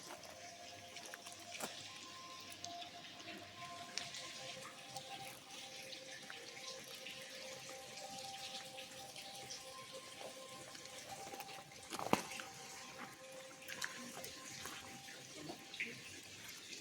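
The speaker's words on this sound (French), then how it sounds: "lorsque la goutte d'eau tombe" Water drops falling inside an underground limestone cave, scattered soft drips over a quiet, hollow background with one sharper splash standing out.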